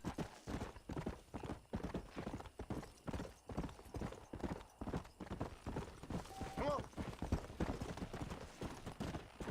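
A horse's hooves clip-clop steadily at a brisk walking pace in the video game Red Dead Redemption. The rhythmic gait is clear and close, with a brief whinny partway through.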